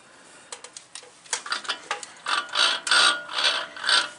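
Metal teeth of a 2017 Ford F-150 front wheel hub clicking and ratcheting against each other without meshing during reassembly, a quick run of close, sharp mechanical ticks that grows into louder grinding clacks with no talk.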